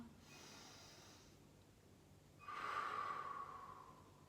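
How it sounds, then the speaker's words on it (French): A slow, controlled breath out during a yoga session, a soft airy exhale rising after a brief quieter inhale, close and unaccompanied by talk. "Et on expire."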